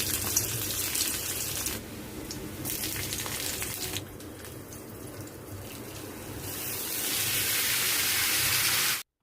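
Tap water running over soaked moong dal as it is rinsed in a home kitchen, a steady splashing gush that briefly quiets then swells louder before cutting off abruptly.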